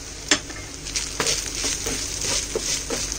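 Sliced carrots hit a hot pan of ginger and garlic over a high flame, sizzling steadily while a utensil stirs and scrapes with several distinct clinks.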